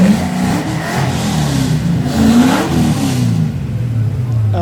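A Leyland Australia-built Triumph TR7 V8 engine revs hard and rises in pitch, a deep throaty roar close by that climbs and then settles back.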